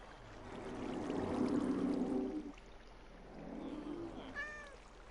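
Cats meowing in Minecraft, a few soft drawn-out mews at moderate distance over a low watery background hum, with no talk.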